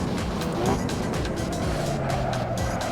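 A Lamborghini Aventador in a racing video game, its engine droning steadily while the brakes come on, with a faint tyre squeal and a falling engine note, under continuous game sound.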